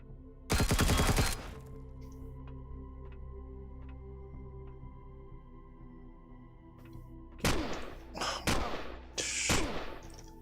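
Turret gunfire in the space-survival game Empyrion Galactic Survival on a moon: a sharp, dense burst of rapid shots, then a quiet stretch with faint ticks, then several more loud bursts near the end.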